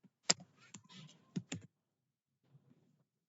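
Code being typed on a computer keyboard, with a short quick cluster of key clicks followed by a pause and a couple of faint taps.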